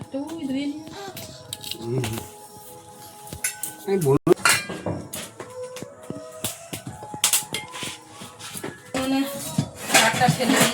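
A wok goes onto a home kitchen stove with clinks and clanks of metal pots and pans. A voice talks between the sharp, irregular knocks.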